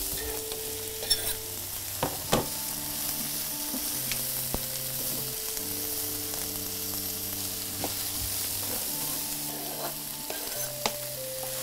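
Sugar snap peas frying in a pan with oyster mushrooms and peppers, a continuous sizzle broken by sharp scrapes and clicks of stirring, close and steady, no talking.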